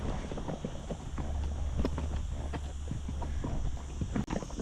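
Horse hooves clip-clop at a steady walking pace on a Mallorca mountain trail ride in the Serra de Tramuntana, close and fairly clear over constant outdoor wind and insect hiss.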